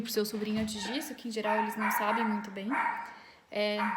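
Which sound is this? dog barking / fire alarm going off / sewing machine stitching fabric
dog barking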